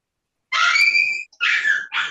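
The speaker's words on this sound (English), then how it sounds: "I never had a dog that makes this much noise." A noisy pet dog gives high, strained yelping cries in three bursts, the first long and drawn out, then two shorter ones, loud and close, with silence before it starts.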